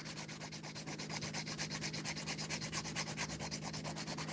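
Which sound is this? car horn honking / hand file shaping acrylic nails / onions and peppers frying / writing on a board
hand file shaping acrylic nails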